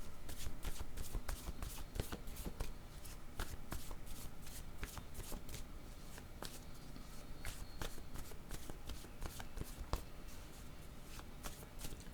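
A deck of cards shuffled over and over during a card reading, a continuous riffling patter with sharp snaps, close and fairly quiet.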